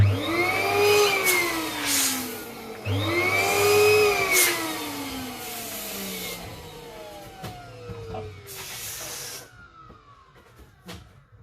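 Electric balloon pump inflating two 4-inch latex balloons for a no-helium decoration, droning in steady bursts with rising pitch sweeps as each balloon fills, stopping between runs, close and fairly loud with no talk.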